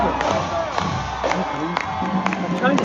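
An excited crowd at a season-ending show with a marching band cheers and whoops steadily, loud and dense, with individual shouts rising above the roar.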